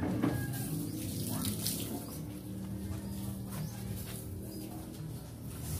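Water runs steadily from a hose used for showering outdoors, a continuous hiss that holds throughout, with birds faintly audible in the background.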